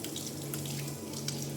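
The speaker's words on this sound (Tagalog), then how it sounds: "oh, yung gripo nila. Punta dito yung tubig." Water pours steadily from a sink faucet, a continuous broadband splashing with a low hum beneath it and no voices.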